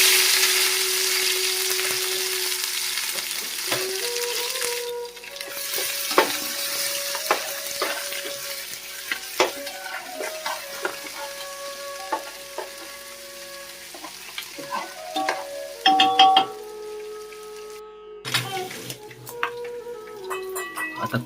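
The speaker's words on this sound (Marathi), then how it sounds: "आता ह्याच्यात पेस्ट टाकून घेऊया आपण." Spice paste for dum biryani fries and sizzles in a pan while being stirred, a continuous sizzle broken by scraping strokes and spoon knocks against the metal, close and clear.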